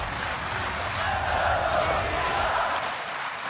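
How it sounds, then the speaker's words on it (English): A large esports arena crowd at the League of Legends World Championship 2016 cheers as a broad, sustained roar of many voices, loud and unbroken throughout. "And the crowd is cheering him on."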